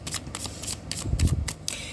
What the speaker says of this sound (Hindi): मैं एक कार्ड और ले लेती हूँ